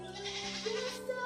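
Goat bleating in a fenced banana (lakatan) plantation on a farm, a wavering cry that rises and falls over about a second with no talk.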